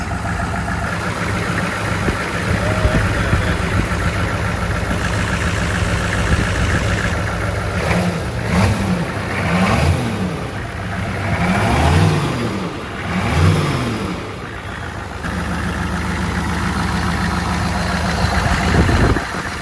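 A fast fuel 195 engine idling with a lumpy, loud rumble, then blipped through a series of quick revs in the middle before settling back to idle, heard close and alone.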